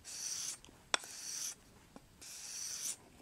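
A knife is drawn in strokes across lapping film laid over acrylic, making three close, rasping, hissing scrapes, each about a second long, separated by brief pauses with small taps and clicks.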